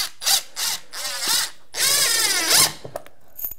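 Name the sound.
power drill driving 3-inch construction screws through carpet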